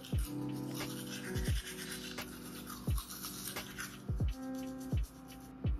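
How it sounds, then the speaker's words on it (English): A toothbrush scrubs a tongue close to the microphone in a series of short, rhythmic rasping strokes with brief pauses between them, quiet and intimate with no talking. "I'll make sure y'all scrub that tongue"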